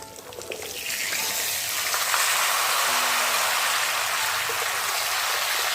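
Vegetables drop into hot tempering oil in a pan and break into a loud, steady hiss and sizzle that swells and holds with no talk.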